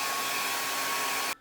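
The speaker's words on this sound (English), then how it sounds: "I didn't used to use the blow dryer for my brows" A blow dryer runs on high for drying glued-down eyebrows, a steady close whooshing roar that cuts off abruptly at the end.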